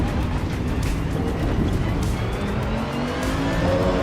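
A racing car's engine drones steadily in a driving video game, loud and close throughout, with tires squealing and skidding through a corner.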